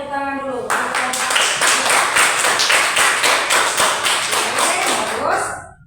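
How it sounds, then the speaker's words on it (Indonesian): Classroom of students clapping hands together after a group presentation, a brisk burst of many close claps lasting several seconds before fading, with a short stretch of talk just before it starts. "Oke, tepuk tangan dulu."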